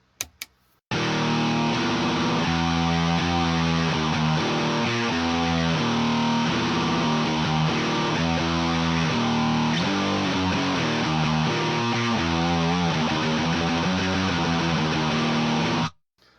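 Swedish death metal HM-2 chainsaw-style distortion guitar with high- and low-filtered signal paths blended, a loud, buzzing, saturated riff of chugging chords and short rhythmic bursts playing steadily for about fifteen seconds with no talking.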